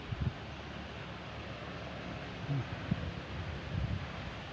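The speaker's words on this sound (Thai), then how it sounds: "ลมเรื่อยๆเลย" Steady wind blowing across a fish pond, a continuous low rushing with soft gusty bumps and a few faint thumps, fairly close to the microphone.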